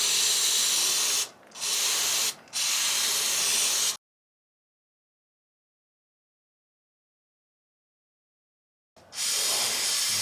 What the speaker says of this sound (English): And then we're just going to spray the cleaner